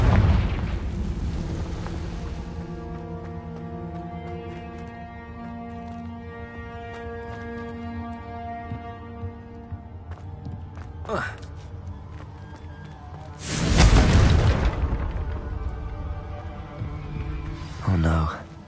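Confringo blasting spell from the video game Hogwarts Legacy: a heavy booming explosion opens the clip, then a long stretch of tonal game music, followed by a second powerful blast and a shorter burst near the end.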